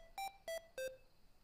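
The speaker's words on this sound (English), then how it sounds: "the Glow Cap plays a ringtone" A Glow Cap pill bottle cap plays its reminder ringtone as three short, evenly spaced electronic beeps, each at a slightly different pitch; the beeps are faint and clean with no talking.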